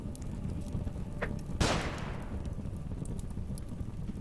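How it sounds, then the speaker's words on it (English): Flashbang grenade going off in the game Underrail: a single sharp, bright burst that rings briefly and fades over a low ambient rumble, with a few faint clicks before it and no talking. "Drop a flashbang."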